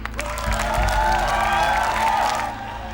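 A studio audience at a televised singing contest applauds and cheers briefly, with a sustained musical tone and low hum running underneath throughout.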